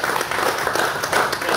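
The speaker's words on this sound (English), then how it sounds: "So please give Christine a round of applause." Audience applause for a speaker at a memorial gathering for miners, a brief burst of dense steady clapping from a crowd.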